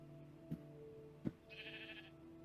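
Sheep bleats in the Life in the Woods Renaissance video game: a single fairly faint, wavering bleat lasting about half a second, preceded by two short soft knocks over a low, steady game-ambience hum.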